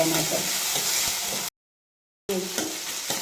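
Chopped tomatoes frying in a pan for capsicum curry, a steady close sizzle with soft stirring scrapes that stops abruptly partway through, then resumes.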